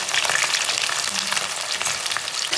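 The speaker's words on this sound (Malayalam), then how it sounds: "ഞാൻ കടുക് ഇടുവാണ്. കടുക് ആദ്യം വെളുത്തുള്ളി ഇട്ടു." Mustard seeds and garlic sizzle steadily in hot oil for a Kerala-style amla pickle, a loud, continuous frying hiss with faint crackles, close and uninterrupted.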